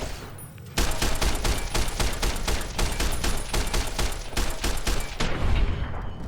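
Service rifle fire against armed robots in Fallout: New Vegas: a loud, close burst of rapid gunshots in a steady rhythm lasting several seconds, with a brief pause before a final few shots.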